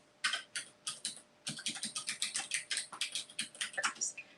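Rapid keystrokes clatter on a computer keyboard in quick irregular bursts, close and crisp, with brief pauses between runs of typing and no voices.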